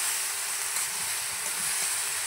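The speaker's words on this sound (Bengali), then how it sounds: "চাল কুমড়ো দিয়ে দিয়েছি, মাছের মাথাও দিয়ে দিয়েছি। ভালো করে নেড়ে চেড়ে ভাজা করে" Ash gourd pieces and a fish head sizzle as they are stir-fried in a pan, with a loud, steady hiss of frying throughout and soft scraping of the stirring.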